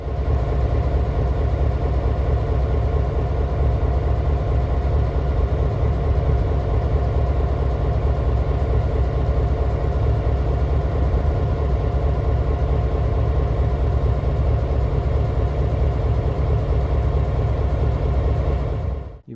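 RCP&E EMD GP38-2 diesel locomotive number 2087 idling in a rail yard, a steady, loud, throbbing engine drone that holds unchanged throughout without voices.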